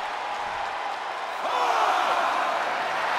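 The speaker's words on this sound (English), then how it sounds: "The sound of this crowd is deafening." A wrestling arena crowd in WWE 2K24 roars as a broad, steady wash of cheering that swells louder midway and holds, with faint commentary voices underneath.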